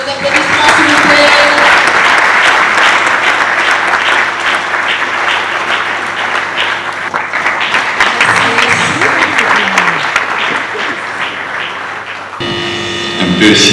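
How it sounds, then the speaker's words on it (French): Sustained loud applause from a large crowd at an award ceremony fills the room for over twelve seconds, then cuts off abruptly into a faint voice. "Vos applaudissements, s'il vous plaît."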